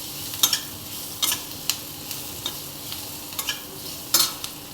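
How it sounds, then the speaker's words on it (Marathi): Grated coconut masala with ginger, garlic and tomato roasts in a pan under a steady sizzle, broken by about a dozen sharp scrapes of a spoon stirring against the pan's surface. "खोबरं टाकूया आणि चांगलं मसाला भाजून घेऊया"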